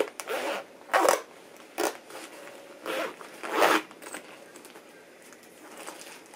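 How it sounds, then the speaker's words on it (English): A zipper on a gift bag is pulled in several short, sharp bursts with pauses between, close and fairly quiet, with rustling of the bag between pulls. "So it's a bag, so you've got a zipper here."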